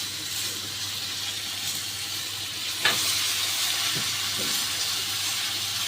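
Washed vegetables lifted from water into a hot kadai for a quick vegetarian dish give a steady, fairly quiet sizzle and hiss with a couple of short stirring knocks partway through, no voices.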